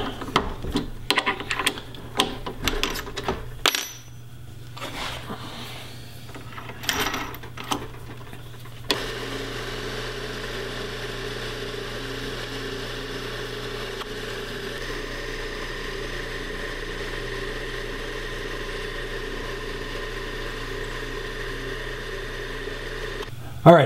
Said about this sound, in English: I have everything drilled out